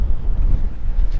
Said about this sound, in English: That wind is, like I said, it's ripping.